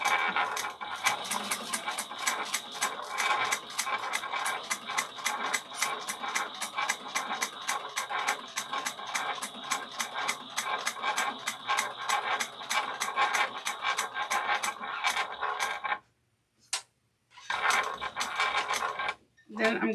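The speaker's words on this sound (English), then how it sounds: "And I'm going to do a back stitch." A sewing machine back-stitches a bag seam in a rapid, even mechanical clatter of needle strokes, running continuously for long stretches with two brief pauses before resuming.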